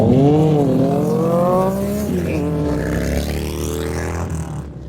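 Motorbikes passing on a road in Chatham on a summer day, a loud close engine roar with rising and falling pitch that sweeps past and fades, no talk over it.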